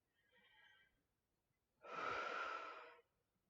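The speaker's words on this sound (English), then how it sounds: "So take a deep breath." A person takes a slow deep breath in a quiet room: a soft, faint breath first, then a louder, rushing breath lasting about a second, close to the microphone.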